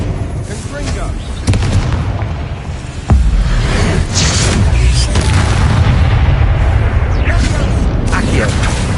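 Confringo spell explosion in Hogwarts Legacy, a heavy booming blast with a sharp onset, followed by dense rumbling combat noise and whooshes, with game voices and music mixed in.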